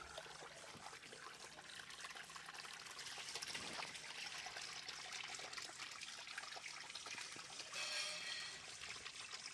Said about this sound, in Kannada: ಪಂಪ್ ಸೆಟ್ ಇದ್ದರೆ ಎಷ್ಟು ಚಂದ ನೀರು ಬೀಳ್ಲಿಕ್ಕಾಗ್ತದೆ ನೋಡಿ.